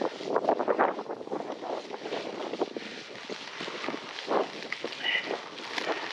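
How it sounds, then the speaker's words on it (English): Wind buffets the microphone while cycling up a freshly resurfaced tarmac road on Kilimanjaro, a steady close rumble with irregular gusty surges throughout and no talk. "Really windy once you get around this corner."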